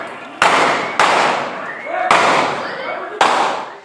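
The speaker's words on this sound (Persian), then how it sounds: "سلاح کمری خود را بیرون می‌آورد و شلیک می‌کند" Pistol shots from a handgun during an attack in Karachi, four sharp loud bangs spaced unevenly, each trailing into a long echoing decay, with no speech.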